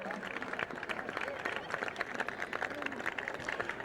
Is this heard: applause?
yes